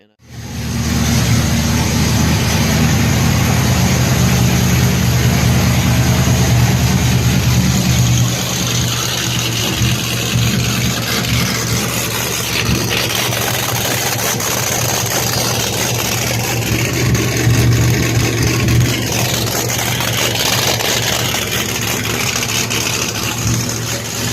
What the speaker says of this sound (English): there's no mufflers, so she's a little loud. This thing sounds great.